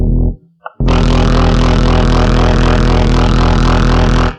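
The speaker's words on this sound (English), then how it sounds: "This is your like sort of big, distorted, modern bass sound" A big, distorted modern bass synth tone with gritty, sawing highs starts after a brief short note and holds loud and steady for several seconds.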